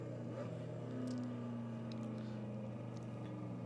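Race car in a sim racing game on the Nordschleife, suffering a gearbox problem, holds a steady droning engine tone with a brief surge near the start, fairly quiet and without talk.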